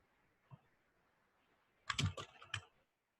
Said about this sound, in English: I'm going to finish typing this sentence